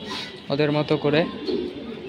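Domestic pigeons let outside after rain coo in a short run of throaty, rolling calls near the middle, close by, while a person speaks briefly over them.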